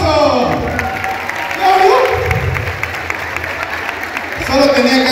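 An audience claps and cheers in a lively, sustained burst of applause, with speech and voices mixed in over the crowd noise.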